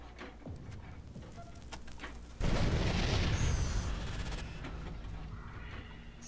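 A sudden explosion bursts out in the Wasteland 2 video game, a loud boom followed by a rushing, crackling roar that slowly fades, after a few faint earlier clicks.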